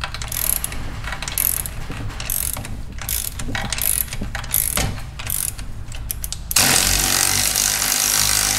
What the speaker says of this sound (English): I'm just gonna use this electric ratchet. Hopefully it has enough torque.